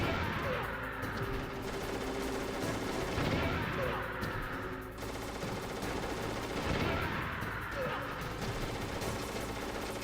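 Gunfire crackles in the video game Metal Gear Solid, repeated bursts of shots forming two loud swells amid a continuous busy game soundscape, near and steady throughout.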